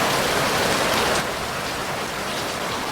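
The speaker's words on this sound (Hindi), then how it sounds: "झमाझम बारिश हो रही है" Heavy rain pours steadily outside studio stairs as a dense, continuous hiss, loud and unbroken, recorded through a wireless microphone with noise cancellation.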